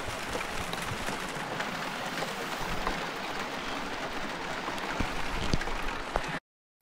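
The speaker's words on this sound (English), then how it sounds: "Pouring down with rain. You can hear it" Heavy rain pours down steadily, a dense continuous hiss and patter that fills the whole scene, close and loud, before cutting off abruptly at the end.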